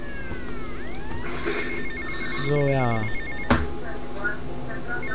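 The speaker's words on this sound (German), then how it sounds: "Mein Telefon klingelt." A mobile phone rings inside the video game GTA Vice City, a repeating electronic ringtone with rising chirps and a steady tone, sounding under game music and effects while someone speaks briefly over it.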